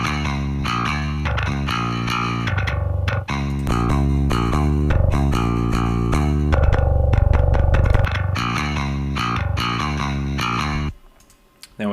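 Metal bass guitar played through a Bias FX clean amp with a 250 Hz cut before the amp, heavy and distorted, driving riffs loud and continuous for about eleven seconds before stopping abruptly.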